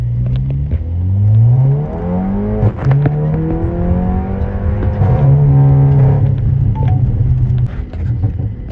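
A 420 hp 2019 Volkswagen Arteon launches hard from a stop, its engine note climbing loudly through rising revs with a gear change midway before pulling on strongly.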